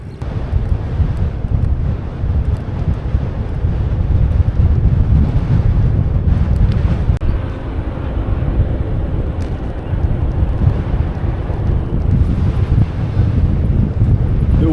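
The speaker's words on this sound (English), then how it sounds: "Wind is not in my favor today." Heavy wind buffeting while cycling across Oregon, a loud, constant low roar and rumble against the microphone that runs throughout with slight gusting swells and no voices.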